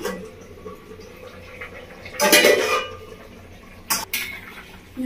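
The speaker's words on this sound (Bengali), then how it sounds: "আমরা ঢাকাটা খুলে দেখে নেবো" A metal lid lifted off a pot of simmering fish curry with ridge gourd and potato, giving a brief clatter and rush of noise, then a couple of short knocks in a quiet kitchen.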